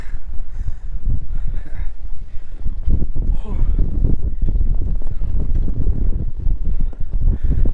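Steady, loud wind buffeting close to the microphone throughout at Dingboche on the Everest base camp trek, a continuous low roar with rough gusts and no pauses.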